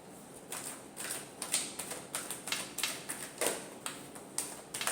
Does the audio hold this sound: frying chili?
no